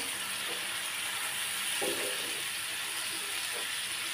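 Spices sautéing in hot oil for a Bangladeshi beef tripe curry, a steady close sizzle with faint stirring scrapes, no talk.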